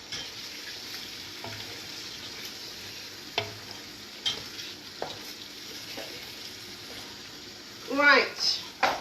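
Lentil or chicken curry sizzles in a frying pan while being stirred, a soft steady frying hiss with occasional spoon scrapes and taps, a voice briefly audible near the end.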